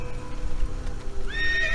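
A horse in the Assassin's Creed video game lets out a loud, close whinny over steady hoof clip-clop, the neigh rising sharply near the end.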